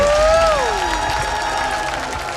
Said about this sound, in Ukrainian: Дякуємо оплесками!